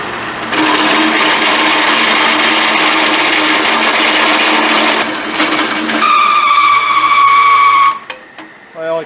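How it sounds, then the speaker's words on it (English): A small drill press bores a 7/8-inch hole through a steel suspension cross member, a loud steady whine with grinding chatter that shifts to a higher squealing pitch near the end, then drops off as the bit hangs up. "drill this out to 7/8 for our anti-crush spacer in this cross member"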